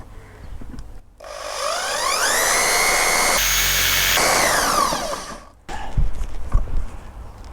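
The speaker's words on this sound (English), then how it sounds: "Change to a hammer drill and do just in one go, but slowly." A hammer drill drilling into a wall whines steadily for several seconds, rising in pitch as it spins up and falling as it winds down, followed by brief clattering handling noises.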